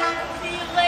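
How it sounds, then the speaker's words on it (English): LIRR Montauk to Jamaica passenger train with C3 bi-level cars and a DE30AC locomotive arriving at Speonk station, a brief steady engine drone with a tonal horn-like sustain, fairly loud. "This is the weekday off-peak 11:18 a.m. Montauk to Jamaica train 2707 arriving in Speonk."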